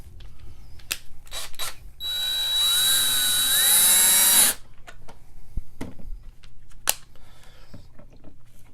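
Power screwdriver backing screws out of an Arcade1Up Countercade Dig Dug cabinet, a loud high whine running steadily for about two and a half seconds, with quiet handling clicks and taps before and after.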